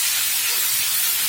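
Spice paste hits a hot pan while pointed gourd and egg curry is being cooked, giving a loud, close, continuous sizzling hiss that lasts the whole moment, with no talking.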